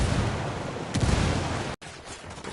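A frag grenade detonates in Ghost Recon Wildlands amid ongoing gunfire, a dense rumbling blast swelling near the start and cutting off abruptly, followed by quieter crackling combat.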